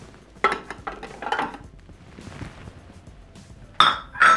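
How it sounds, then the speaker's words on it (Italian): Pieces of potato drop into a Thermomix (Bimby) bowl while making pasta e patate, giving a few sharp knocks and clinks up close with quieter rustling between them. "Aggiungiamo il resto delle patate"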